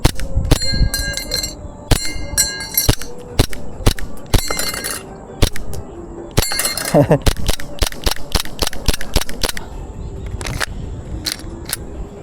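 A rapid series of sharp shots from a WE Glock 17 airsoft pistol, loud and close, some fired in quick bursts and others spaced apart, with clicky mechanical snaps between them.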